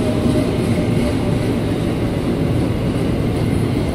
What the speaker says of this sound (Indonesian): ini dia nih komuter lain tujuan Kampung Bandan via Manggarai